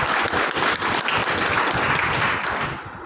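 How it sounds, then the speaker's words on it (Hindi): A crowd at a Hindi-language wellness business seminar claps loudly and densely for about three seconds, then the applause begins to fade toward the end. "इसके लिए भी एक बार जोरदार आप ताली बजाएं।"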